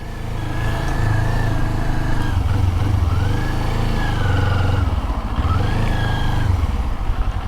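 A Kawasaki Z400 motorcycle climbs a steep off-road hill, its engine revving hard and close with repeated rising and falling surges of throttle, and nobody speaking.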